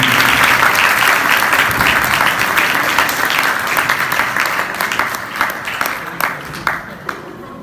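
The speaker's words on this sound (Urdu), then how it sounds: "آپ سب کی بھرپور تالیوں میں ریورنڈ فادر ظفر تنویر پیسٹری شیپورا، بھرپور تالیاں دی فادر کے لیے" An audience at a Catholic Bible study session applauds a priest as he is introduced. The loud, sustained clapping slowly thins into scattered, fading claps near the end.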